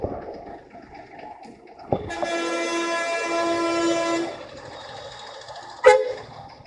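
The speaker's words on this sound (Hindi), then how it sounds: "ट्रेन शोर आ गया" Train rolling past a roadside spot on a Haryana to Saharanpur road trip, with a long steady horn blast from about two seconds in lasting roughly two seconds, a sharp clank at the start and a loud bang near the end over traffic noise.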